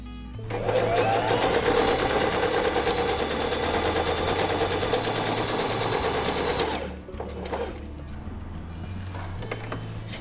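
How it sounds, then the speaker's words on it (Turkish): A Pfaff Smarter 140 S sewing machine runs a straight stitch along a zipper, giving a fast, even mechanical hum for several seconds before it stops. Lighter clicks and handling follow. "Düz dikiş konumunda makinamı çalıştırıyorum"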